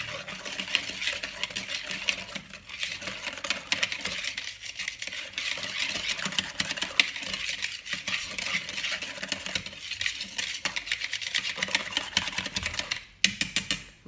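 A whisk beats a chocolate flan mixture of eggs and milk in a bowl, a fast, continuous clicking and scraping against the sides that carries on for many seconds with only brief pauses, close up and without voices.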